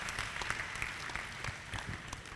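Audience applause at a panel discussion on reading culture in Africa, continuous clapping from a gathered crowd with occasional sharper claps standing out, heard quietly and evenly.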